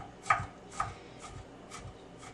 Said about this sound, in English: to mutilate and chop with a knife to the best of my ability